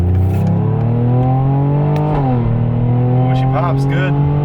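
A Jeep Grand Cherokee Trackhawk in Sport mode accelerates hard, its engine note rising steadily and loud and close, with a brief shift dip midway and a person talking over it.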